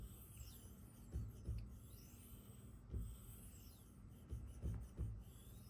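A knife's bevel being refined on a Spyderco fine ceramic sharpening stone, with soft rasping strokes repeating at an irregular rhythm, close and quiet, with short pauses between passes.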